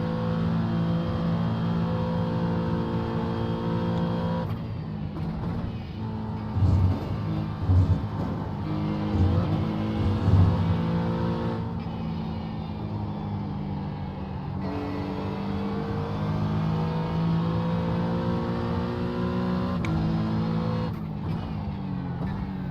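Simulated race cars in iRacing at Watkins Glen, GT3 machines with LMP2 and GTP prototypes, engines droning and shifting close by, with a few louder revs and passes mid-way and a steady engine tone throughout.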